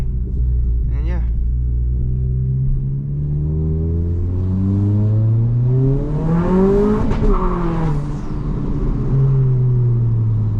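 Modified 2022 Honda Civic Si pulling hard through the gears at night, engine note climbing loudly with each gear then dropping, close and continuous with a voice present.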